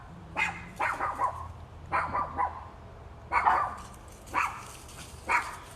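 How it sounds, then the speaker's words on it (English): Pet dogs at home bark in repeated bursts, set off by neighbors' activity: several loud, sharp volleys of two or three barks each, spaced about a second apart, close to the microphone with no talking over them. "Sorry about my dogs. They're just the neighbors doing something and they're going nuts."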